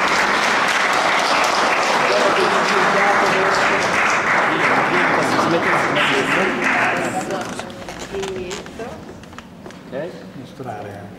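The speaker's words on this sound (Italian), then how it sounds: "Un applauso." Audience at the Premio Murazzi 2016 literary award ceremony applauds a writer, a loud, sustained round of clapping that thins out over the last few seconds while voices talk over it.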